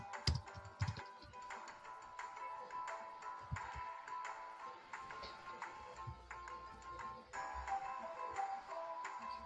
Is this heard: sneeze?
no